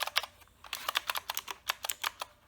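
Typing on a wired 60% mechanical keyboard with 68 keys and blue switches (Uhuru UMK-100), a quick run of sharp, clicky keystrokes in an irregular rhythm, heard up close with no talking.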